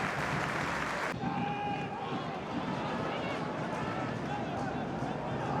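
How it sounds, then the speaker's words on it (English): A football crowd at Wrexham versus Eastleigh applauds during a substitution, a steady wash of distant clapping and crowd noise with a commentator speaking over it. "Good round of applause."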